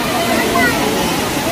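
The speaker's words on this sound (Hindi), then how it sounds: "ये नीचे में एक वाटरफॉल बन रहा है और ऊपर में भी वाटरफॉल बन रहा है" Rani Dahra waterfall in Kawardha, Chhattisgarh, roars as a loud, steady broadband rush of falling water, close by and continuous.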